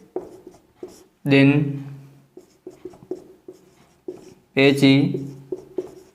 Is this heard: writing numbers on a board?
yes